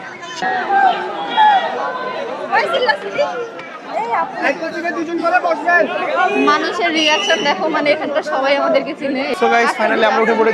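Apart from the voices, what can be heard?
crowd chattering at Debotakhum boat point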